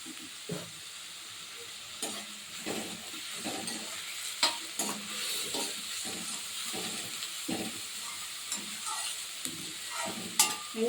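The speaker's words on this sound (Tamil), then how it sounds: "வெங்காயம் நல்லா வதங்கட்டும்." Onions sautéing in a pan with salt and turmeric while prawn gravy is cooked, a steady soft sizzle and hiss broken by repeated scraping stirs every second or so, fairly quiet and close, with no talk.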